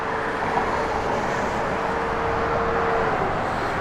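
A 1969 Plymouth Road Runner engine drones in a steady, even rumble, moderately loud and unchanging throughout with no talking.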